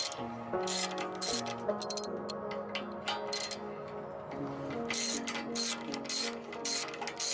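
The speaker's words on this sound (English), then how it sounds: "remove the EGR valve first, unplug the connection, and remove the 2 10mm bolts" Ratchet clicking rapidly in short bursts while removing 10mm bolts from the EGR valve of a Jaguar XJR6, close and fairly quiet with brief pauses between runs.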